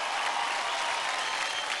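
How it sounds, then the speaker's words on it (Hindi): A studio audience claps for a children's dance performance on a Mother's Day television dance show, a dense, steady burst of applause with no voices over it. "जोरदार तालियां हो जाए अदिति के लिए।"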